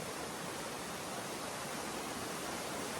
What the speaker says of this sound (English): The trail crosses right where this waterfall is